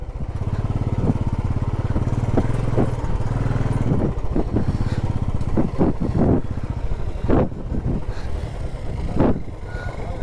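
A Royal Enfield Bullet motorcycle with four riders aboard labours uphill on a rough off-road track, its engine a loud, continuous thumping drone with a few sharper bursts and no talk over it.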